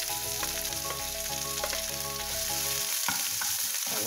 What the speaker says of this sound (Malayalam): നമ്മൾ ചെറുതായിട്ട് വഴറ്റിയെടുക്കണം